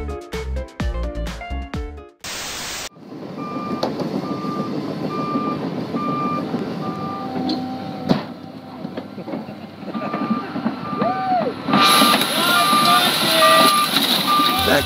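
A truck's reversing alarm beeps in an even, repeating rhythm over a rumbling engine on the road, loud and near, with a sharp clatter partway through and brighter noise toward the end.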